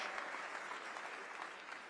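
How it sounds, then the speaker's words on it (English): Audience at a film awards gala in Palm Springs applauds steadily, a dense, even wash of clapping heard from a distance and fairly faint. "I'm going to pause for applause, because someone seemed to kick it off."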